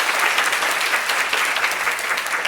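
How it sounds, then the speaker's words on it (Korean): An audience at a lecture hall claps loudly and continuously, a dense, even round of applause with no talk over it. "다시 한번 큰 박수 부탁드릴게요."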